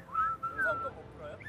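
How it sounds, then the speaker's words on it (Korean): A person whistles a short, wavering tune in a few brief bursts, fairly close and at moderate volume, with faint room noise and voices in the background. "저 휘파람 불 수 있어요."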